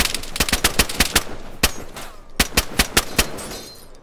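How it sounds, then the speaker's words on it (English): Video game gunfire rattles in quick bursts of sharp shots, then a short pause, then a second rapid volley, loud and close. "I'm getting shot at"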